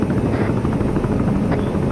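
A video game helicopter hovers close by during a survivor rescue, its loud rotor chop a rapid, steady thumping that fills the moment with no voices over it.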